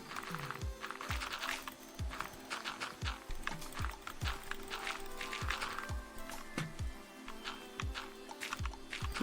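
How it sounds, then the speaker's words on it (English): Horses in Minecraft clip-clopping, a steady run of hollow hoof knocks repeating about twice a second, with a busy clatter of other game sounds in the background and no voices. "You have like 50 horses, Chip."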